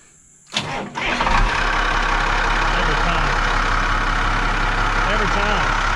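A Monaco Signature motorhome's engine cranks and catches after a brief quiet moment, then settles into a steady, loud idle that continues throughout while someone talks nearby.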